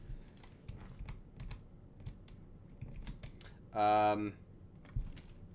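Computer keyboard keys clatter in quick, irregular taps close by, with a brief burst of speech partway through.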